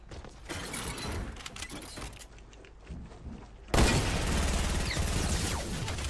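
SMG gunfire in Fortnite erupts as a loud, sustained rapid burst after a stretch of quieter clattering game sounds.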